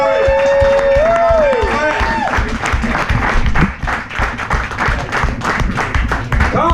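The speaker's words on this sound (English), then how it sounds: "You guys give your round of applause." A comedy-night audience breaks into loud, dense applause mixed with crowd noise, a steady wash of many hands clapping for several seconds under a voice briefly speaking at the start.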